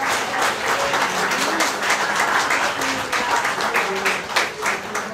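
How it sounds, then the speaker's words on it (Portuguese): Church congregation applauding together during a worship service, a steady dense wash of clapping with faint voices mixed in throughout. "Uma salva de palmas ao Senhor."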